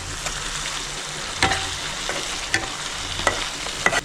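Masala for chicken roast sautéing with a splash of water in a pan, a continuous sizzle broken by sharp spoon scrapes and clinks at irregular intervals, near and without speech.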